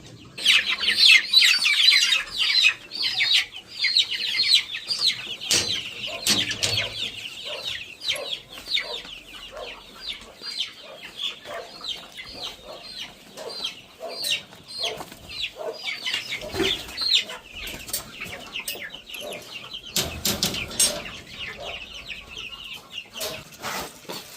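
Hens in a poultry shed cluck steadily and densely, many birds overlapping in a continuous busy chorus with occasional louder squawks, close and without talk.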